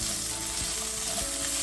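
Parsnips and carrots browning in a hot pan, a soft continuous sizzle with a couple of brief stirring scrapes, close and quiet, with no voices.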